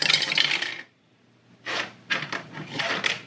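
Dice tumble through a 3D-printed dice tower with an unlined bottom, giving a bright clattering rattle, a brief pause, then several more quick bursts of hard plastic clicks and rolls, close and crisp.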